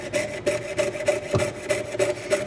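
A hand saw, likely a jeweler's saw, cuts through metal for a hollow-form reliquary ring in a steady run of rhythmic back-and-forth strokes, close up and moderately loud with no talking.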